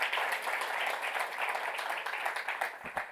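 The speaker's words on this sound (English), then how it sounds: "Let's have a round of applause for that." Audience applause at an enterprise tech conference on GraphQL, a steady wash of clapping throughout at moderate level, fading slightly near the end.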